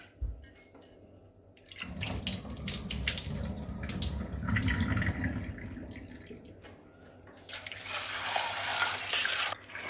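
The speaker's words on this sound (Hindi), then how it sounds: "तो अभी ये मैं 4 से 5 बार इसको अच्छे से धोऊंगी" Tap water runs steadily into a sink while lentils for dal makhani are rinsed, a continuous splashing flow with sloshing and clinking from the washing, growing louder and brighter near the end.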